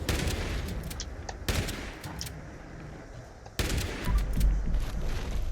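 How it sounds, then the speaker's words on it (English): Rapid shotgun blasts fired at a Deathclaw in the video game Fallout 76, dense and loud in a few sharp bursts with a heavy low boom, no talk over them. "So I'm going to just shoot, let's say his arm, leg, or head, and we'll see what it does to his body."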